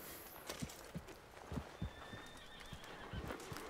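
A horse in the open-world western video game Red Dead Redemption 2 whinnies in the distance, faint and quiet, over the steady clip-clop of hooves walking across the ground.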